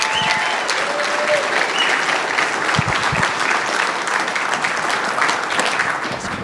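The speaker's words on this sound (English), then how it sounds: "give a round of applause for Rene Rodriguez" Sustained audience applause for a keynote speaker at a morning event, a dense, steady wash of many hands clapping and filling the whole stretch with no pause.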